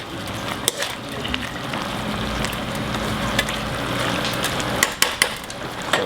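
Stir-fried noodles sizzle steadily in a hot pan, a dense, continuous crackle with a few sharper clatters of stirring.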